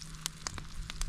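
Egg and sausage patties frying over a campfire outdoors, a faint steady sizzle broken by several short sharp crackles and pops, with no talking.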